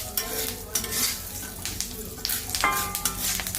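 Curry leaves fry and crackle in hot oil in a pan while being stirred, a steady close sizzle with scraping stir strokes and a few sharper pops, no voices.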